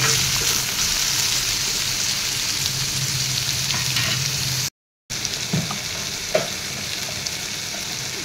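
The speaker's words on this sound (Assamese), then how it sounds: "কেৰেলাখিনি এয়া মই তলপৰ কৰি এফালৰ পৰা এয়া লৰাই দি দিছোঁ।" Bitter gourd fries in a pan with a steady, close sizzle while being stirred, with occasional light scrapes and clinks of the utensil, interrupted by a short cut in the middle.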